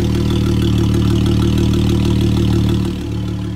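Jeep Wrangler JK running with no exhaust fitted, a loud, steady open-pipe idle with a deep rumbling drone close by, dipping slightly near the end.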